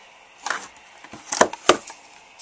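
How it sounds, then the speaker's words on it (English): A 2.5 inch scallop circle punch cuts through paper with a few short, sharp clicks close up: one soft click, then two crisper snaps in quick succession, against a quiet room. "I'm going to take my 2 1/2 inch scallop circle punch"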